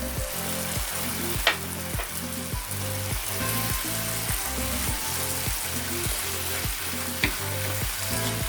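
Thai curry paste frying with carrots and potato in a hot pan, a steady loud sizzle broken by regular rhythmic scrapes of a spoon stirring, close up and without talk.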